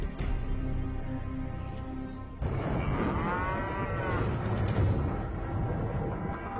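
Cattle in a remote cow pasture three hours north of Phoenix give a loud, drawn-out moo, heard close over steady wind-like background noise.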